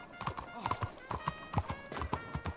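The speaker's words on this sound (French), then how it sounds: "C'est maintenant que t'arrives, le cheval." Horse hooves clip-clop in the video game Red Dead Redemption 2, a steady close rhythm of sharp hoof strikes repeating throughout, with someone talking over them.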